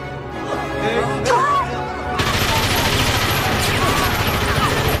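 A Tommy gun fires in a fast, loud, sustained automatic burst that starts partway through and carries on to the end. Earlier there is a bit of background noise, and a single sharp crack comes before the burst.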